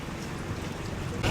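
Rain falling in Coron, a dense steady hiss of drops on surfaces that runs continuously and grows louder near the end, with no speech over it.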